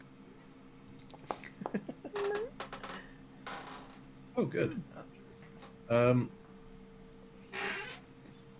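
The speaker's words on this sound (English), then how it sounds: "hey there, little kitty." A small cat mews softly several times in short, faint cries between quiet whispered talk and light clicks.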